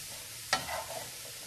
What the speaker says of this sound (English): Don't put a lid on this. Just, you know, let it cook, let it ride.